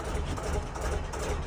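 A Gardner 2LW diesel engine on a narrowboat chugs steadily at low pitch, a short continuous throb up close.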